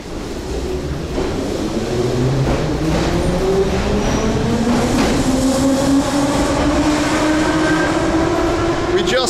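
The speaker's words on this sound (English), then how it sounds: "Just missed our train" At a Ukrainian railway station, a train pulls away with wheels rising in pitch and a grinding rumble, rail clatter and squeal building as it accelerates, loud and close throughout.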